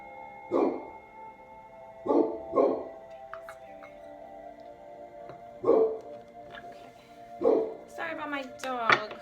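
A pet dog indoors barks in short separate bursts, single and doubled woofs spaced a couple of seconds apart, with a faint tonal hum and a few high clicks between them.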